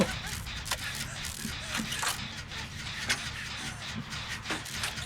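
Generator being repaired in Dead by Daylight: a continuous mechanical ratcheting and clattering whir with small periodic clicks, steady and moderately loud under a faint game ambience.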